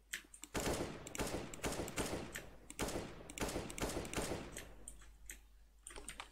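Rapid automatic gunfire in Counter-Strike: Global Offensive deathmatch comes in dense repeated bursts, loud and close, with brief pauses and a few scattered single shots toward the end.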